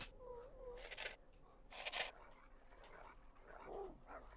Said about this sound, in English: it sounds like there's a lot of dogs around